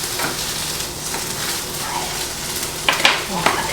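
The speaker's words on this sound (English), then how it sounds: "we can hear the sizzle coming from the skillet" Food sizzles in a hot skillet with a steady, close frying hiss. A few sharper clinks of stirring come near the end, and someone speaks faintly over it.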